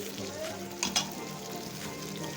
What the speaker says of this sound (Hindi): टमाटर शामिल करने के बाद इसको मैं अच्छे से मिक्स करूँगी और 5 से 7 मिनट के लिए इसको कुक करूँगी